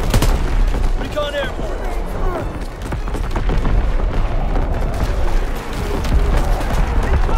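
Artillery fire and explosions in a Call of Duty WWII multiplayer match, a dense, continuous barrage of booms and gunfire rumbling throughout, with voices heard briefly amid the battle noise.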